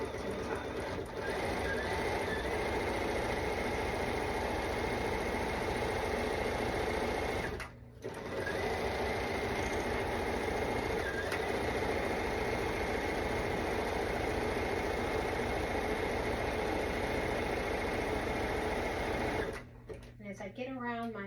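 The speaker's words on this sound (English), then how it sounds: "I'm just going to stitch the same zigzag stitch 1/2 inch from the bottom all" Sewing machine running a zigzag stitch along a T-shirt sleeve seam, a loud continuous rapid whirring chatter that stops briefly twice, with a voice talking over it.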